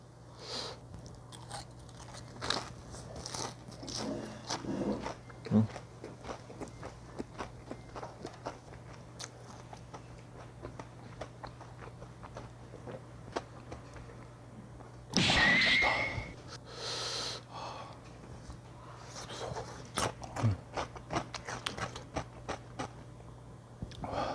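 Close, crisp bites and crunchy chewing on thin-battered fried chicken dipped in spicy sauce, with repeated crackly crunches and softer chewing across a long stretch, one louder burst of crunching partway through, and a steady low hum underneath.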